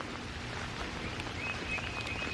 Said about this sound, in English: It's raining. Not pouring, but raining.